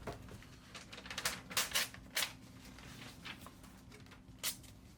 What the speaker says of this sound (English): And I'm just taping it up right here.